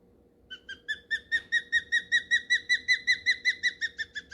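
Bald eagle or osprey call: a run of about fifteen thin, high, squeaky chirping whistles in a steady rhythm, swelling then easing slightly, heard fairly close over a faint low background hum.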